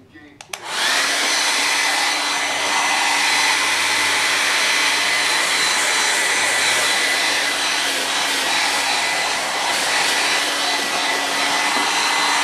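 A handheld hair dryer switches on and runs continuously at a loud, steady whir with a faint high whine, close by and uninterrupted.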